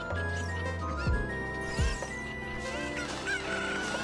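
Chicken clucks and a rooster-like crow sound inside the Ocarina of Time video game, two brief squawks rising over steady looping game music with chimes.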